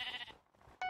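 Sheep bleating in a video game: a loud, high bleat at the start, a quieter stretch, then a sharp second bleat near the end.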